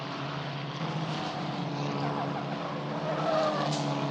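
Italian F4 single-seater race cars at full speed around the Vallelunga circuit, with a steady, loud engine drone and a faint screech of tyres, continuous and close for the whole stretch.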